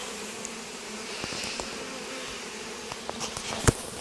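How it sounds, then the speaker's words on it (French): A dense, steady hum of a honeybee swarm buzzing fills the air, with occasional sharper clicks and bumps from insects passing near. "un essaim d'abeilles"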